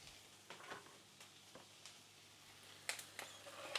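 Garlic is added to softened onions frying in a pan for a budget homemade curry, giving a faint, steady sizzle broken by a few soft scrapes and clicks of stirring.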